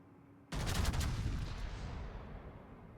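Naval gunfire in World of Warships: one sudden loud cannon blast followed by a rumbling, slowly fading echo, with no voices over it.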